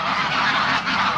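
Many geese honk together at a frozen lake in Reykjavik, a dense, continuous chorus of overlapping calls at close range.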